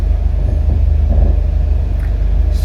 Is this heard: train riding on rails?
yes